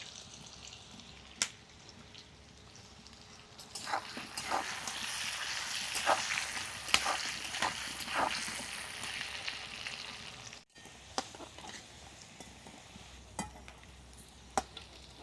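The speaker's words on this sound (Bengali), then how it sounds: "ওই তেলে এই আলুগুলো কষে নেব কিছুটা নুন আর হলুদ" Potatoes fry in oil with salt and turmeric, giving a quiet background sizzle that swells in the middle with a few sharper crackles and stirring scrapes, then fades.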